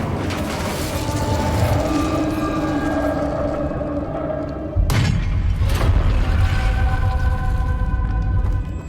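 A fiery Incendio spell cast in the video game Hogwarts Legacy, a steady roaring whoosh with a sudden heavier burst about halfway through, played loud and continuous over a background game score.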